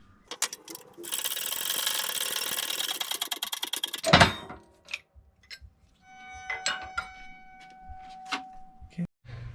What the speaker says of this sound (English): I'm going to put this pin right in here, and I'm going to be pressing out the bearing